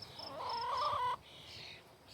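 A chicken gives a brief drawn-out clucking call, close and fairly quiet, then falls mostly silent with faint squawks after.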